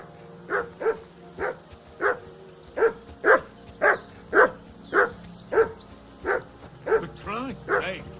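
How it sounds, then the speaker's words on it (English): A dog in Kingdom Come Deliverance 2 barks over and over in a steady, evenly spaced rhythm, about a dozen sharp mid-loud woofs, the last few turning into whiny yelps. "Jesus, Harry, that barking's driving me nuts."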